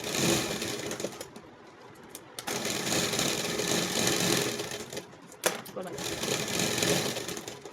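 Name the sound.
sewing machine zigzag stitching a plastic shirt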